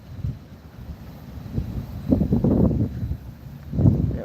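Outdoor wind buffeting a microphone in gusty, low rumbling bursts that swell and fade, close and fairly loud, with no talking.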